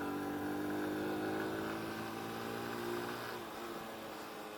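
A 110cc Honda Super Cub clone motorcycle engine idles with a steady, low, even hum, fairly quiet and heard alone without talk.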